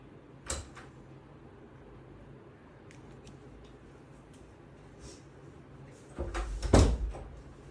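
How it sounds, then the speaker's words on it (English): A door opens indoors: a sharp knock-like click early, then a louder clattering rattle and thud near the end, set against a quiet room with faint scattered taps. "the door just opened. I don't know if you heard it or not."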